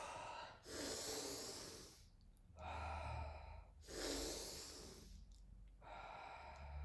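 A person does Tummo breathwork, taking two full cycles of deep, forceful breaths in and out, close and audible, with a brief quiet pause between them.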